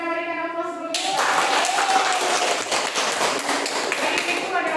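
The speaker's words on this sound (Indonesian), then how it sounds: "Oke, kita berikan aplaus dulu" Classroom audience applause rises after a sustained tone fades, becoming a dense patter of many hands clapping at steady volume for several seconds before tapering off.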